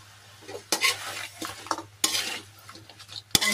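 Shrimp and crab are sautéed in a pan, a soft sizzle broken by sharp scraping stirs and clanks of a utensil against the pan, close and irregular.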